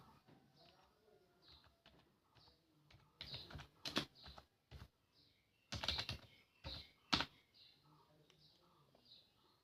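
Bursts of clicking keystrokes on a computer keyboard come in quick clusters as a mobile number is entered, with quieter room sound and faint bird cooing in between.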